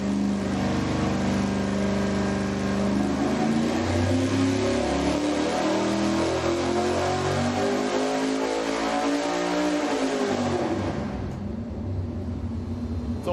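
A V8 engine on a dynamometer revs up hard at 600 RPM per second, a loud continuous rising roar with climbing harmonics that drops off abruptly near the end.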